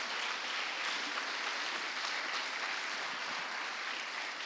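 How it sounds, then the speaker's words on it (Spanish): Steady, dense applause from a church congregation during an evangelical sermon, an even hiss of many hands clapping at once, moderately loud and unbroken throughout, with no voices on top. "Dale un aplauso a Dios."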